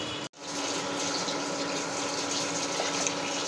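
Water runs steadily from a tap while fish is rinsed in a kitchen, a continuous close splashing gush that starts after a brief cut near the start and carries on with no voices.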